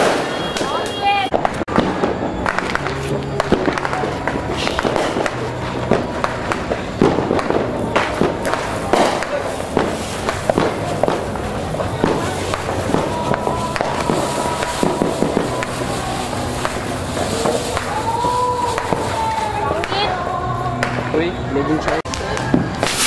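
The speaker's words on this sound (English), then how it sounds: "Lighting a fireworks." New Year's fireworks and firecrackers go off in the Philippines, loud cracks and bangs in dense irregular bursts over about twenty seconds, with people talking and calling in the background.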